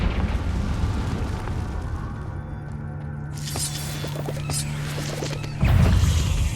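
A Confringo spell blasts in Hogwarts Legacy, a rumbling explosive burst with crackling debris and a second heavy boom near the end, over a low steady game hum.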